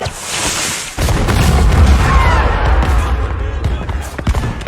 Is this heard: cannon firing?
yes